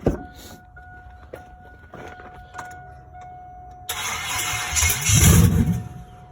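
An old pickup truck that has sat unused for years cranks with a steady whirring starter, then the engine catches and roars up loudly, close by, with faint background noise before it fires.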